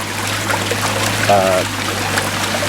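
Water runs steadily through a fish pond filter, giving a continuous trickling, splashing wash close by, with a low steady hum underneath and a short tonal squeak partway through.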